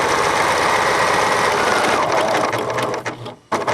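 A sewing machine stitches fusible-backed applique fabric, a fast steady close-up motor whir with rapid needle clatter that slows and briefly stops near the end before starting again, with no voices.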